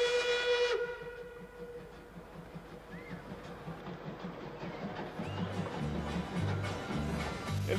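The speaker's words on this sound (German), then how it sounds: "Ihre Pfeife war unüberhörbar." A Class 50 steam locomotive sounds a loud, shrill steam whistle for under a second, then the engine chuffs and hisses with rhythmic low puffs that build toward the end; no one speaks.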